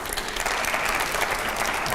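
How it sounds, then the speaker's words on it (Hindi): Loud audience applause at a political event in India, steady vigorous clapping from a large crowd filling the whole moment without a break. "दूसरे सवाल से पहले जरा जोरदार तालियां हो जाए पहले।"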